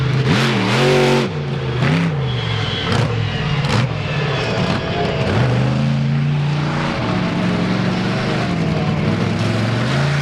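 Loud monster truck engine revving hard through a freestyle run at the Fall 4-Wheel Jamboree Nationals in Indianapolis, the pitch sweeping up and down with repeated throttle blips, then settling into a sustained high roar near the end.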